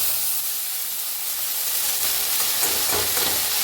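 Moth beans roast in a little oil in a hot kadhai, a soft continuous sizzle and hiss with light stirring scrapes growing slightly busier toward the end.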